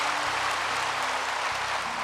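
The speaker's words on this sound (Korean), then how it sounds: "우리 주님 감사의 박수를 드립니다." Congregation applauding during a service at Yoido Full Gospel Church, a steady dense wash of clapping throughout with a low organ or keyboard chord humming underneath.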